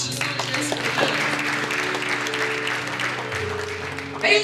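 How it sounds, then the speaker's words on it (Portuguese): A church congregation applauds steadily, a dense wash of clapping filling the room, with a low sustained musical tone underneath. "Você pode aplaudir o Senhor Jesus nesse momento"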